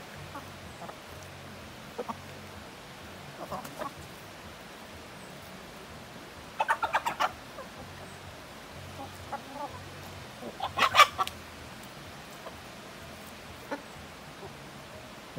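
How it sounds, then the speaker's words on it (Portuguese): Farm chickens cluck in short bursts, a few near, others softer, over a low steady background hum with no talk. "As galinhas."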